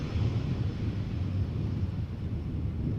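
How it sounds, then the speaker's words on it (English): EasyJet Airbus A320 jet arriving at Amsterdam Schiphol Airport in crosswind conditions, a steady low engine roar blended with gusty wind buffeting the microphone, continuous and fairly close throughout. "EasyJet A320 just arrived from Edinburgh"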